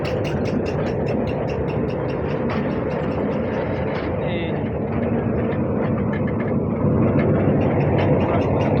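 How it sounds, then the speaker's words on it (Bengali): A loud, steady locomotive engine rumble drones continuously with broadband roar at a railway junction, swelling slightly near the end, while a voice talks over it. "এই যে ইঞ্জিন চলে আসছে ইঞ্জিনের শব্দটা দেখেন একবার"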